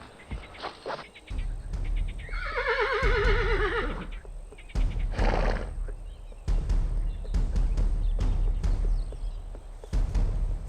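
A horse whinnies loudly in a long, wavering neigh, with surrounding hoof clops, rustling and scattered thumps on either side of it.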